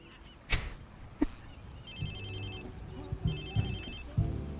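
A phone rings in Watch Dogs 2 as a repeated electronic ringtone in short bursts, set against game ambience and a few sharp thumps.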